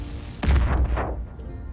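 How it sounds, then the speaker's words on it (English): A pipe bomb detonates in the Far Cry 5 video game: one sudden, loud blast with a heavy low boom, fading out over about a second. "I'm gonna throw a pipe bomb on him"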